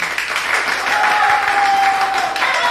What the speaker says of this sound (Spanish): número uno, aplauso